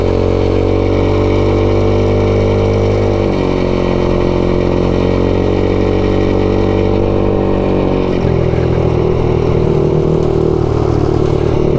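A 2021 MADDOG Generation V 150cc scooter engine drones steadily while riding through the countryside, its loud mid-pitched hum shifting pitch a couple of times as the speed changes, with no talking.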